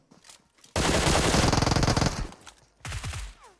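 Uzi submachine gun fire in the PUBG Mobile battle royale game, a loud sustained automatic burst lasting over a second, trailing off, followed by a shorter second burst, with faint sound before it.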